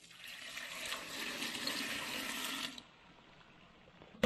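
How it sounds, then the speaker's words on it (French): One litre of red wine is poured into a cooking pot for braised beef, a steady splashing gush for nearly three seconds that then cuts off into quiet. "on va déjà mettre 1 litre de vin rouge."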